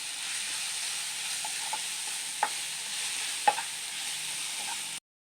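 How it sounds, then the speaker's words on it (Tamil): A capsicum mixture sautés in a pan with a low, steady sizzle, and a few light clicks and taps come from a spoon as it is stirred. "எல்லாத்தையும் நல்லா மிக்ஸ் பண்ணி விடுங்க. நல்லா பச்சை வாசனை போகிற வரைக்கும் இதை நல்லா வதக்கிக்கலாம்"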